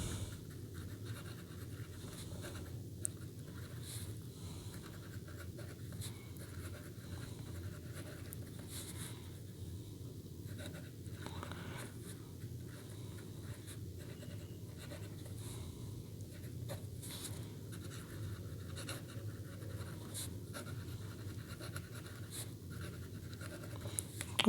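An extra fine ebonite fountain pen, locally made and filled with Daytone purple ink, writes on paper with a faint, steady scratching that continues quietly and alone for the whole stretch.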